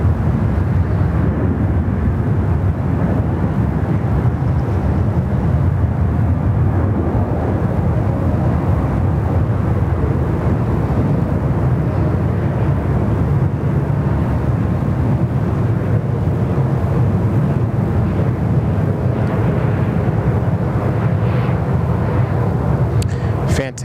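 A Gulfstream jet at Sydney Airport roars steadily and loudly throughout, a broad continuous rumble with no break, while voices talk over it.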